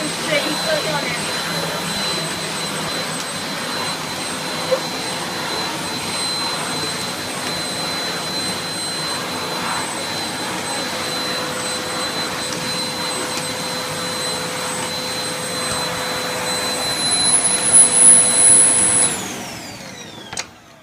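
New replacement Hoover vacuum cleaner for pet hair running on carpet with strong suction, a loud constant motor roar and whine that swells briefly near the end before winding down.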